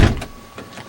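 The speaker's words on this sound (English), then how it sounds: "Shut the door." A single car door of a 1999 Jeep Grand Cherokee Limited thuds shut with a brief low bang, followed by faint rattling settling afterward.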